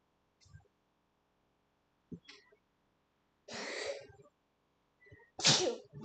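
Two sharp, close sneezes ring out during a live stream, each a short explosive burst after faint breathy sounds, with quiet gaps between them.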